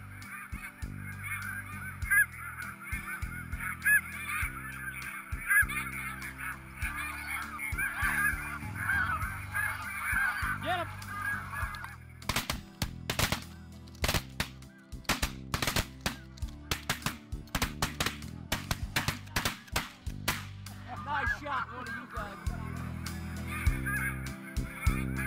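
A large flock of snow geese honks and calls continuously during a Kansas goose hunt, loud and dense at first, then broken by a rapid run of sharp shotgun blasts before the honking returns.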